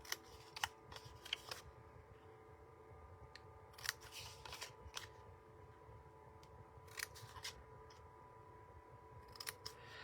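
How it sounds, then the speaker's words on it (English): Scissors snip along the score lines of a Bath & Body Works Jar of Joy hand sanitizer box, giving quiet, crisp cuts in small clusters over a low steady background hum. "we're going to just snip up on these score lines"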